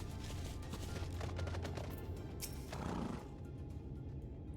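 A horse neighs in the video game FFXIV Shadowbringers, a bright whinny over busy game sound effects and crackling noise, fading after a few seconds.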